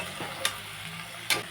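Tangra fish frying in a pan, a soft steady sizzle with two brief sharp crackles, heard close and quiet with no speech.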